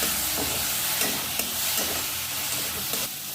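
Onions and tomato sauté in a pan with a continuous close sizzle broken by regular stirring scrapes and taps, no voices over it.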